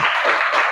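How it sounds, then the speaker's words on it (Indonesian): Children in a classroom clap their hands together in a short, steady burst of many overlapping claps, close and fairly loud, with no talking over it. "Tepuk tangan dulu."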